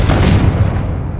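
A loud, close blast from the Confringo spell in Hogwarts Legacy lands as a single booming burst that fades quickly.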